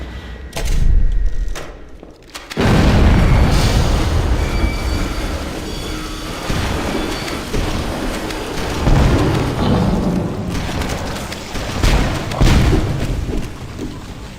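Rocket explosions from Flood enemies on a bridge in the Halo: CE video game. Loud rumbling blasts follow a brief quieter opening, then settle into sustained heavy booming and roaring with repeated peaks, and no talking.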